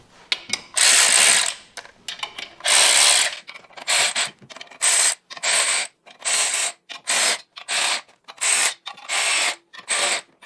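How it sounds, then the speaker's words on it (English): Hand ratchet tightening pressure plate bolts on a GR86/BRZ transmission, loud close clicking bursts, two long runs then a quick series of short strokes at an even rhythm, alone without talking. "when we tighten the pressure plate, you'll want to make sure you tighten it in the star pattern"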